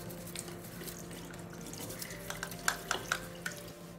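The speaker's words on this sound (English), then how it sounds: "So this is how it is to be cleaned under the tap." Washing machine inlet filter from a Bosch WAT28468IN rinsed under a running kitchen tap: a faint, steady stream of water with a few small splashes and drips toward the end.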